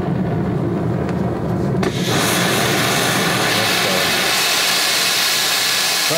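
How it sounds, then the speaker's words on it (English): A gas torch flame roars steadily, heating a part of the 8 hp Briggs & Stratton engine on a 1979 Toro 826 snowblower. The loud, continuous hiss swells stronger after the first couple of seconds and carries on without a break. "Try to keep a tight flame."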